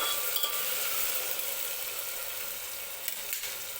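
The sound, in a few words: tomatoes frying with spices while stirred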